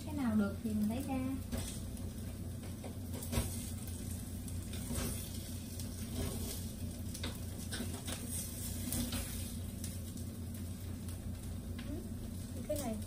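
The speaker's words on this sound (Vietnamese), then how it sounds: "Vậy mà chiên thôi, cái nào được thì mình lấy ra." Bánh khọt batter fries in a pan with a steady, soft sizzle and occasional light clinks, heard beneath a person talking throughout.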